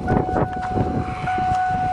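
A steady electronic door-open warning tone sounds continuously inside a car, with rumbling noise and movement beneath it.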